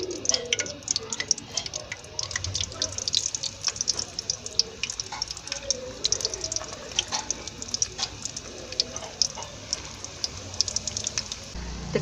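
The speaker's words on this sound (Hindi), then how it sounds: "अब हम इसे फ्राई कर लेते हैं। घी हमारा हो गया गरम।" Coated potato donuts fry in hot ghee, giving a quiet, steady crackle of tiny pops and sputters throughout.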